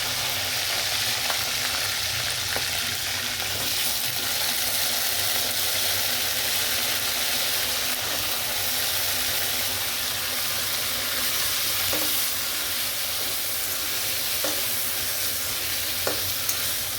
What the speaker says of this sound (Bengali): আমি এখন এটি ভেজে নেব।